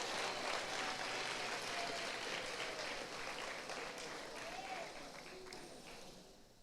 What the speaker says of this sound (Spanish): Denle el aplauso a él, ¿verdad?